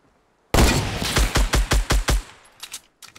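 Fortnite gunfire: a sharp, loud burst of about seven evenly spaced shots in quick rhythm, followed by a few fainter, scattered shots trailing off.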